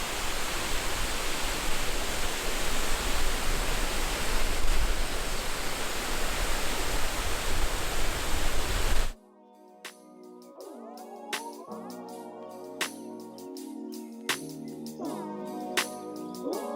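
La Coca Falls, a waterfall in the El Yunque rainforest of Puerto Rico, roars as a dense, loud, steady rush of water for about nine seconds, then cuts abruptly to quieter tonal background sound.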